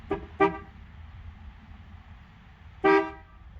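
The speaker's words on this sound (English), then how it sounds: "It's got like a fucking train horn on it." A 1964 Dodge 440 sedan's horn honks twice in quick succession, then once more after a pause: loud, close, brassy blasts over a low idling rumble.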